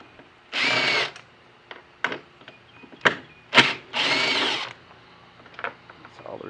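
Power drill backing out Torx T30 screws on an ATV carburetor and gas can, heard as two longer whirring runs and several short bursts, close and fairly loud, with workshop clatter between.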